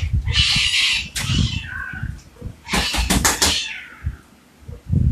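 Cats meow and caterwaul in several drawn-out, wavering cries, some overlapping, heard fairly close indoors with brief gaps between calls.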